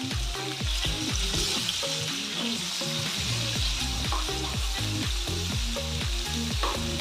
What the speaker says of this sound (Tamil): மீன் ஒரு பக்கம் பொன்னிறமாக வெந்ததுக்கப்புறம் திருப்பி விடுங்க